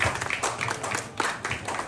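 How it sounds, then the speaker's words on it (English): An audience at a 2022 modeling ramp competition in Montalban, Rizal, claps in a dense round of applause. The clapping is steady, fairly quiet and slightly distant, with some small swells throughout. "Let's give her Kim round of applause"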